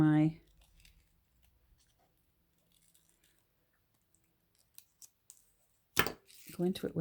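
Scissors snip through paper being trimmed for a holiday craft project, a few quiet, sparse cuts spread across a near-silent stretch, with a person talking briefly at the start and again at the end.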